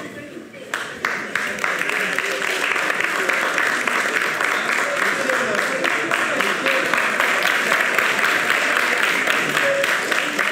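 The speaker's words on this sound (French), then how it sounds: "Merci de l'applaudir." Studio audience on a French-language talk show gives a long, steady round of applause, dense many-handed clapping that starts after a brief pause and holds at a loud, even level with faint voices beneath.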